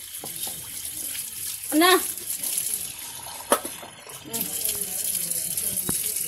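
Tap water runs steadily over plates and bowls being washed in a village home, a soft continuous splash with a few clinks, while voices speak briefly over it.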